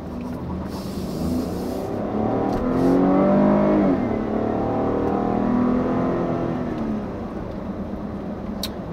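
A 2017 GMC Acadia Denali SUV with a 3.6-liter V6 accelerates hard, its engine note rising and swelling in pitch over several seconds, then easing off. It is loud and heard from inside the cabin.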